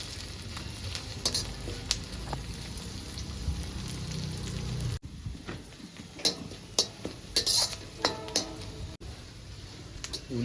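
Onions, green chilies and curry leaves fry in a pan for a chicken liver fry, a steady sizzle broken by the clink and scrape of a spoon stirring, with a brief pause partway through.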